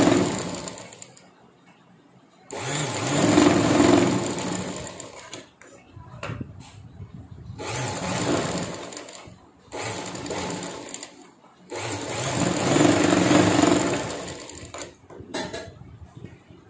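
A domestic sewing machine stitches a 38-inch blouse in three loud bursts of running, separated by short pauses, with someone speaking in between the runs.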